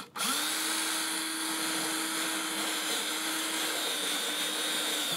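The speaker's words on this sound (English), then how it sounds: "the 3/4 inch takes a 1 1/4 hole saw, and you simply just drill a hole in your barrel." A steady, loud power drill whines continuously as a 1 1/4 inch hole saw grinds through a plastic water tank barrel, starting abruptly and holding a constant pitch throughout.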